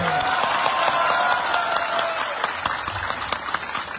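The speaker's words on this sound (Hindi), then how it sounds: "ताली मारो इसके लिए भी।" Crowd applause at a political gathering, steady rapid clapping that holds at full strength for the whole few seconds, with light background murmur.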